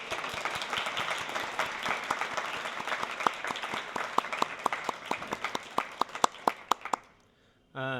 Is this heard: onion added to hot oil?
no